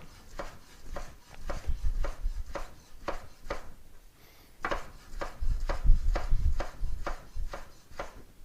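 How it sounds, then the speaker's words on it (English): A knife slices through a tomato on a wooden board for a salad, giving a steady series of crisp, close taps, roughly two or three a second, with a brief pause midway. "I'm thinking I'm going to do like some nice slices of the tomato for this salad."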